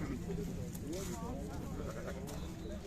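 Sheep bleat amid the crowd at a livestock bazaar, wavering calls rising over a dense murmur of voices and background bustle, with people talking close by throughout.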